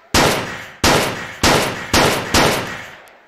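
Five sharp gunshots fire at a steady spaced rhythm in a VR gun training video game, each a loud crack with a short decaying tail, with no talking.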